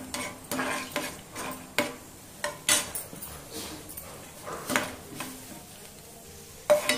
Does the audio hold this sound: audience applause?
no